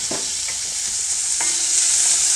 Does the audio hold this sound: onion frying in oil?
yes